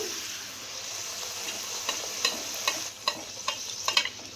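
Luchi frying in hot oil, a continuous close sizzle with sharp spitting pops and stirring clicks that become more frequent toward the end.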